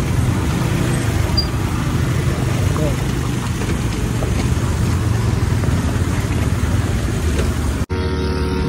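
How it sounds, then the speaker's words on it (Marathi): A Yamaha MT-15 motorcycle engine running steadily in heavy traffic on a hot day, a continuous loud droning rumble from close by that cuts off abruptly near the end. "गाडीचा आवाज कंटिन्यूच येतो, खूप ट्रॅफिक होती"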